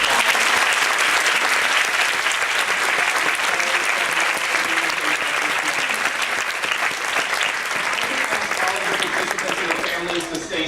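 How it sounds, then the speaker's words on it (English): Sustained audience applause fills the room at the close of a panel discussion, dense steady clapping near and loud throughout with no break. "so let's give everybody a big round of applause."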